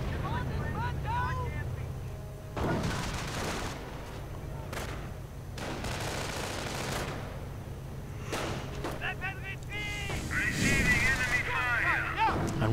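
Gunfire bursts and grenade explosions in a World War II strategy game, with a low rumble underneath, several sharp broadband blasts spread through the stretch, and a voice talking over the battle.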